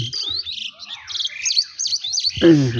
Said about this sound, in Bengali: পাখির কলতান কি সুন্দর